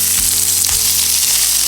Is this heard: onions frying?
yes